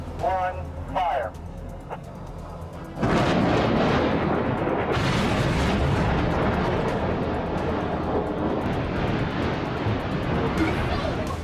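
Building demolition explosion: a few seconds of tense voices, then a sudden loud blast that rolls into a sustained, rumbling roar of collapse and debris lasting over eight seconds, with crowd voices beneath.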